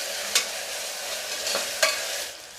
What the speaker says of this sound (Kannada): ಟೊಮೊಟೊ ಮತ್ತು ಈರುಳ್ಳಿ ಎರಡನ್ನೂ ಹಾಕಿ ನಾನು ಚೆನ್ನಾಗಿ ಫ್ರೈ ಮಾಡ್ಕೊತಾ ಇದ್ದೀನಿ.